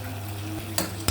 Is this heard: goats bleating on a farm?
no